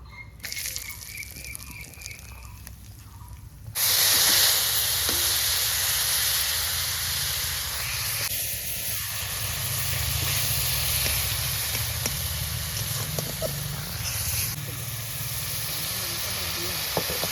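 Cinnamon, cardamom and cloves dropped into hot oil erupt into a loud, steady sizzle that holds throughout, following a quieter stretch of frying hiss at the start.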